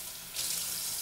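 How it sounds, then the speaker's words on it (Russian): Water running from a tap, a steady hiss that swells louder after a brief quieter start, wetting a sponge with warm water for washing dishes. "Смачиваю губку, мягко говоря, теплой водой."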